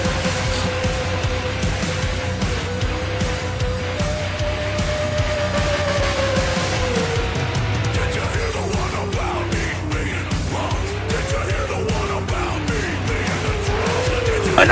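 A race car at Daytona accelerates hard, its loud engine drone rising as the tires squeal through a long slide, with the squeal wavering over the engine for most of the run.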